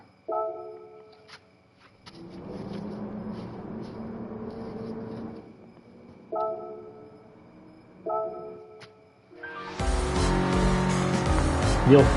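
Engine-swapped Audi TTS Coupe in Gran Turismo 7: short bursts of revving alternate with steadier stretches, ending in a loud, sustained high-rev run. Voices can be heard between the revs.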